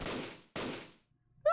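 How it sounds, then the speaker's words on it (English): Two gunshots in the Fate/Grand Order game, each a sharp blast decaying over about half a second, one right after the other, followed by a brief quiet. "Senpai, those were gunshots."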